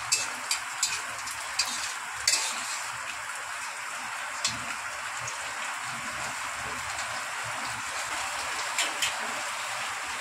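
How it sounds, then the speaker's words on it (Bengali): Semolina fries lightly in a pan, probably in ghee, giving a fine, even sizzle with repeated spatula taps and scrapes, loudest early on. "অল্প করে ভেজে তুলে নেব।"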